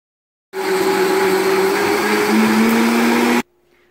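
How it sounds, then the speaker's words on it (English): A high-power Vitamix blender whirs loudly and steadily for about three seconds while blending a cashew Alfredo sauce, its pitch rising slightly midway, then stops abruptly, with brief silence before and after and no talking. "So let me put the lid on and get to blending."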